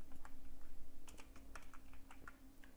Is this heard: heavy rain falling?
no